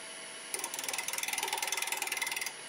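Wood on a lathe near 1200 RPM is cut with an Easy Wood Tools number 1 hollower, giving a rapid, ratchety chatter that lasts about two seconds and is moderately loud, with no talking.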